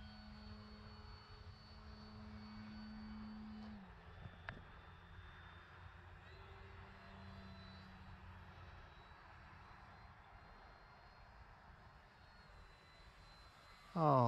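An RC OMP Super Decathlon model airplane flies at dusk, its engine a faint, steady drone at a distance that shifts pitch slightly as it passes, with a brief loud bump at the very end.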